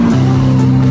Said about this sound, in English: The low sound of this V12 engine.